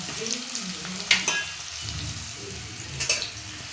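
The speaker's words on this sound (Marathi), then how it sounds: "कांदा लसूण जिरे मोहरी आहे ना छान परतून घ्यायची" Onion, garlic, cumin and mustard seeds frying in hot oil, a dense crackling sizzle up close with a couple of sharp spoon knocks against the pan, no voices.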